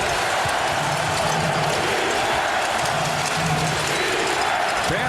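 At a 2002 NBA playoff Game 7 in Sacramento, the Kings' home crowd against the Lakers roars in a dense, continuous wall of noise with rhythmic chanting pulses, while an announcer talks over it.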